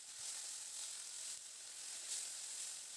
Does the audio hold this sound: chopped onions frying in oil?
yes